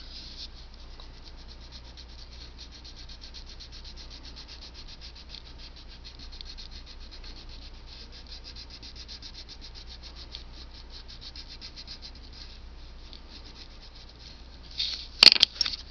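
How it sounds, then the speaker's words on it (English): A crayon is rubbed across paper to fill in a purple Sharpie outline in quick, quiet, scratchy back-and-forth strokes. A few louder knocks sound near the end. "I'm going to color the inside with crayon"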